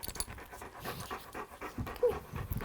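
A dog pants in quick, close, rhythmic breaths inside a trailer at a dog wash, with a few louder huffs mixed in and no talking.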